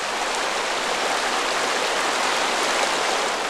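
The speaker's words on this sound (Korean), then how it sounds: "계곡의 물줄기가 불가의 법문처럼 마르지 않는다는 남대천의 최상류, 법수치 계곡" A mountain stream rushes through the Beopsuchi valley in the upper Namdaecheon, a steady, dense hiss of flowing water that stays close and even throughout.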